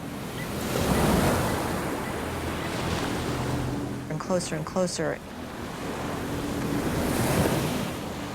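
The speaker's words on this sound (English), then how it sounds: "I just remember those waves, the sound of those waves." Waves roar and wind blows at sea. The surf is loud, swelling and fading in heavy surges, and someone speaks briefly in the middle.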